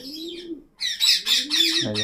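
A pet parakeet held in the hand gives a run of close, loud chirps and squawky calls, with brief pauses between bursts.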